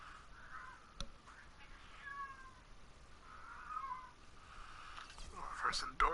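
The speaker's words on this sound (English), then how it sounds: "Goddamn cat is outside." A cat meows outdoors a few times, faint and at a distance, over a quiet background.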